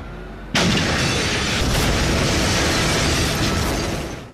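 A bomb goes off on a city bus in a TV drama: a sudden loud blast after a half-second of quiet, then a sustained roaring rumble that slowly fades.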